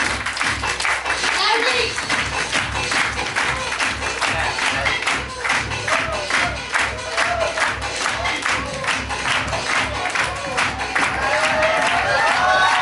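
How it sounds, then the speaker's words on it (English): An audience at a spoken English class team introduction in Indore keeps up dense, continuous clapping for a presenter. A voice speaks over the sustained applause. "Clap for Chetan sir. Keep clapping, keep clapping. Keep clapping."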